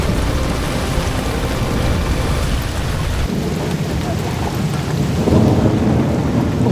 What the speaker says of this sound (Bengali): গুড়ুম গুড়ুম করে বিদ্যুৎ চমকাচ্ছে, আর বৃষ্টিও হচ্ছে প্রচণ্ড পরিমাণে